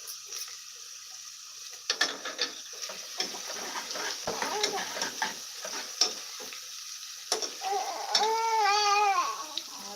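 Chopped onion sautéing in a pan gives a steady sizzle with repeated scraping and stirring clatter from a utensil, and a brief high wail near the end.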